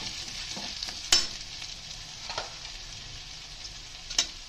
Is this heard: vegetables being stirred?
yes